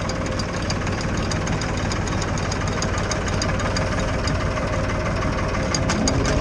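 A Major 3011 tractor engine held at throttle while working winter crops, a loud, close, steady diesel drone with a faint knocking rhythm running throughout.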